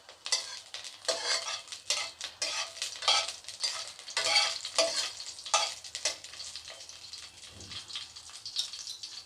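Dried chilli and white cumin frying in hot oil, a dense crackling sizzle with frequent bursts of spatter and occasional metal clinks from a utensil in the pan, loud and close, with no voices.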